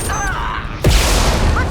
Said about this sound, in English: I'm gonna use my sniper rifle